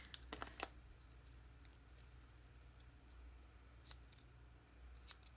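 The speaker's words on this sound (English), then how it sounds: "need my scissors." Scissors snip ribbon in a series of quick, quiet, crisp cuts, clustered at the start and repeated sparsely afterward, close by in a calm room.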